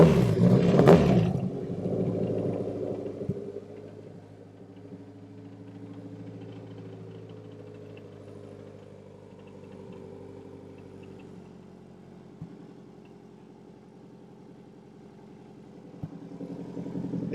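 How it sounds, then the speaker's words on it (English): A car with an aftermarket exhaust rumbles at a low, steady idle after a short rev at the start, the deep drone settling into a tame, even burble close by. "I just want to hear this exhaust coming out the back."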